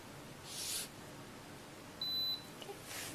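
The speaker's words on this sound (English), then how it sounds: "you have to wait till it beeps" A fingerprint scanner at a police booking station gives a short, thin electronic beep, faint against a quiet room hum, with a few soft tones around it.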